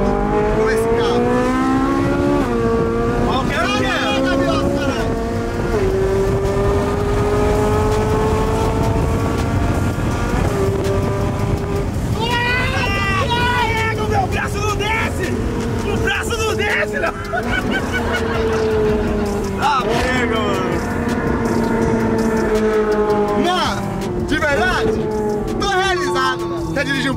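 A Ferrari sports car engine roars loudly throughout as the car drives, its pitch climbing repeatedly under acceleration and dropping at gear changes, with a steady, close, continuous drone.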